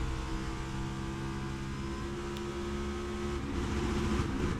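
A NASCAR Cup race car engine buzzes steadily from inside the cockpit in deep traffic, a continuous harmonic drone held near the rev limiter with small surges and stutters, close and uninterrupted.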